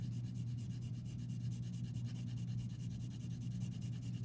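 Colored pencil shading on paper for a math graph, a steady soft scratchy rubbing that runs continuously and close throughout.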